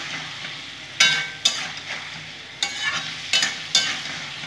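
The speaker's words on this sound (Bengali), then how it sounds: "এখন আমি খুব ভালো করে কষিয়ে নেবো, আর কোনো মশলা দেওয়া নেই, সুন্দর করে কষিয়ে নেবো যতক্ষণ থেকে মশলাটা তেল থেকে না সেপারেট হয়ে যায়" Spice paste being stir-fried in oil in a pan for a squash curry, a steady sizzle broken by about five sharp spatula scrapes and knocks, close and fairly loud, with no voices.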